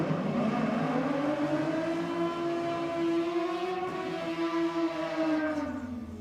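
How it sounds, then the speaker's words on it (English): A rotary-powered Mazda RX2 nostalgia drag racing car holds a loud, high, sustained engine wail with a smooth, slowly bending tone that fades slightly toward the end, with no voices. "As you can hear, Alf Axiak is back in the rotary powered RX2"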